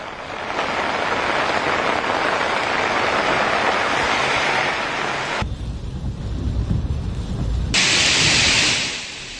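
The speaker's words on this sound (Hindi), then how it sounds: "ये प्री मॉनसून बारिश है जो इस वक्त हम दिल्ली एनसीआर में देख रहे हैं।" Pre-monsoon rain falling in Delhi NCR, a dense hiss of steady downpour that shifts abruptly in tone partway through, loud and continuous with a rumbling low end.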